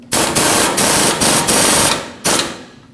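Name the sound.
snugging tie rod mounting nut, Nissan Frontier knuckle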